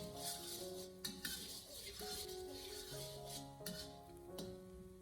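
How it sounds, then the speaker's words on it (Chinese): Chopped ginger and garlic stir-fried over low heat in a wok give off quiet scraping and stirring noises, faint beneath soft background music. "我们将切好的姜蒜放进锅里面，开小火给它翻炒一下"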